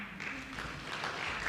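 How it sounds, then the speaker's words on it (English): Convention audience applauding in a large hall, a faint, steady wash of many hands clapping together, heard from a distance. "If you're clapping, clap."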